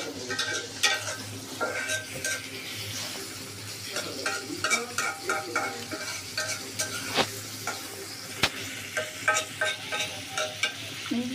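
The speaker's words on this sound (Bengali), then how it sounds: "মাছটা দিয়ে দিলাম, পেঁয়াজের সাথে লাল ভাজা বাড়িয়ে দিয়ে দিলাম" Fish fries with onions in a pan, a constant sizzle overlaid by rhythmic scraping and stirring strokes of a spatula, close and fairly quiet.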